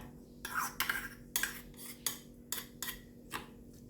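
Metal utensils clatter against a bowl in a series of sharp knocks and scrapes, roughly seven in quick succession, as chicken is tossed in a thick sauce seasoned with salt for a baked glass noodle dish.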